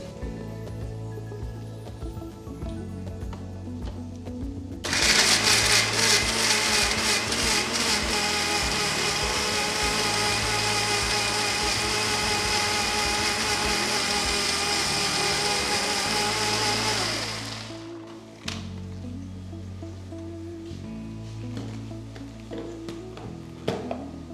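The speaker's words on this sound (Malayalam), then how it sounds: "നന്നായിട്ടൊന്ന് അരച്ചെടുക്കാം." Mixer grinder blending curry ingredients into a smooth paste for Egg Lababdar gravy: a loud, steady motor whir starts abruptly, runs continuously for about thirteen seconds, then winds down, with quiet kitchen background before and after.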